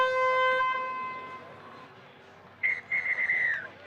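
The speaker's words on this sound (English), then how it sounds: "Chris McMillan blows the whistle for half-time in this top-of-the-table showdown in Wednesday Night League" A referee's whistle blown for half-time at an amateur rugby league match in the Auckland Wednesday Night League: a steady tone fades early, then one loud, warbling whistle blast sounds near the end over open-field ambience.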